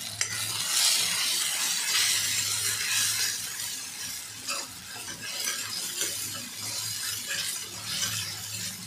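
A mixture is poured into a pot and stirred for a summer recipe, a spoon scraping and swishing steadily with soft splashing and faint sizzle, close and continuous.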